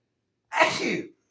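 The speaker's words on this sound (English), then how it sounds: "Sorry, sneeze" A single sharp sneeze bursts out close to the microphone, surrounded by silence.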